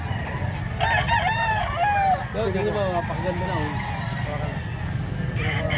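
Gamefowl roosters at a bullstag sale crow twice close by, the calls ringing loud over a busy background while people talk nearby.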